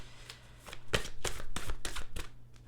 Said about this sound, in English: before we even shuffle